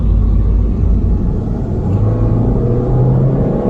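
A Mini Countryman accelerates hard on a hot day in Sydney, giving a loud, deep, steady engine rumble and drone that holds throughout, heard close from inside the car.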